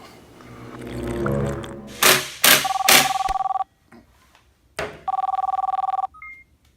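A telephone rings in a small engine repair shop in two long electronic bursts separated by a pause, loud and close, with thumps and clicks around them.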